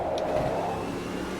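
A car's mid-pitched engine holds a steady, fairly loud drone while the vehicle drives on the road, with a slight rise suggesting acceleration, and no one speaks over it.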